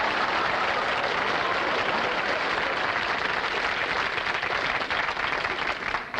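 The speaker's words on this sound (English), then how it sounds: "Give the man a nice round of applause, please." A television studio audience applauds in a dense, steady wash of clapping that holds at full strength for about six seconds and thins slightly at the close.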